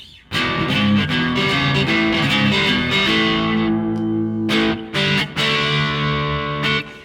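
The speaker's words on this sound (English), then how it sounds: "It's not a bad neck pickup tone for a distortion pedal." An electric guitar on its neck pickup through a Maxon SD-9 Sonic Distortion pedal plays heavily distorted chords and riffs, thick and sustained, with brief choked pauses near the end.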